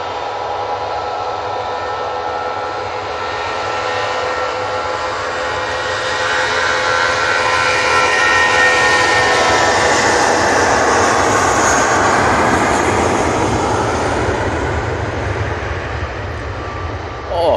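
Aircraft engines spool up at Manchester Airport, a loud sustained roar that swells and builds over many seconds, close and powerful, with a faint voice underneath.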